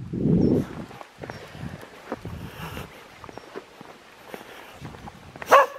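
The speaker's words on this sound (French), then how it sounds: "T'es pas obligé d'aboyer" A dog gives a short, deep bark at the start, then footsteps and faint rustling outdoors, ending with a sharp clatter.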